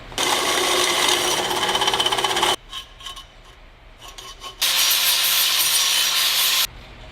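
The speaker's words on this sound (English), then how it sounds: "I made a smudge, and I'm gonna drill it." Two long bursts of harsh, rasping grinding at close range as a drill bores into a metal pipe, separated by a quiet pause with a few faint clicks.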